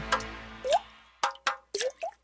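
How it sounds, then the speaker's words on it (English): Water dripping from leaking household pipes: five or six distinct, resonant plops land one by one, some close together, with quiet gaps between them and no other sound. "That's the sound of water coming from leaking pipes."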